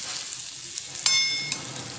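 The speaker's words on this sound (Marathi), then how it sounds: "ही पण छान परतून घेऊ।" Matar paneer ingredients sauté in a pan with a steady, close sizzle, broken once by a bright metallic clink of utensil on pan.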